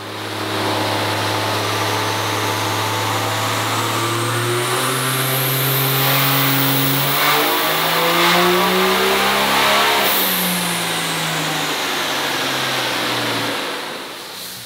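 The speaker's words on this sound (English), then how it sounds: "All right, we have Jeff Brown's 2006 truck here." A 2006 truck engine revs hard on a dyno, climbing steadily through rising tones with a loud sustained roar, shifting midway, then easing off toward the end.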